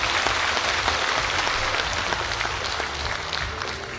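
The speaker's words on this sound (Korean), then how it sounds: "큰 박수 부탁드리겠습니다" Audience applause at an Incheon district rally, dense steady clapping from a crowd filling the whole clip at even loudness, tapering slightly toward the end with no voices.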